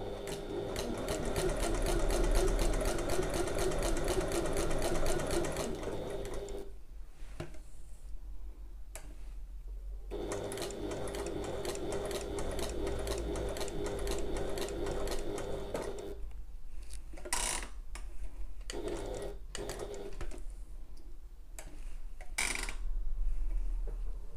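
Sewing machine top stitching a messenger bag at an eighth-inch seam with a long stitch length, running in steady rapid bursts with brief pauses between, close and alone.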